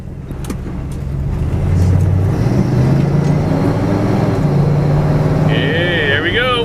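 A 1969 Oldsmobile 442 driving around the block, with a steady, loud engine drone and rolling road noise building at the start and holding throughout, heard from inside the car with a voice briefly present.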